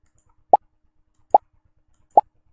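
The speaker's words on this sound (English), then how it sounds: "Let's see what pop sounds like." Three short, crisp pop sound effects from the Scratch coding program, evenly spaced about eight tenths of a second apart, each a quick isolated plop against silence.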